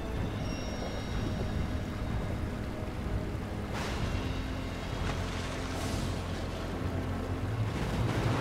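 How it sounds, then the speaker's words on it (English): A geyser-like spout of water gushes upward in the video game Child of Light, a steady rushing wash of noise that stays even and moderately loud, with a few soft gusting swells near the end. "Is that an upward flowing waterfall?"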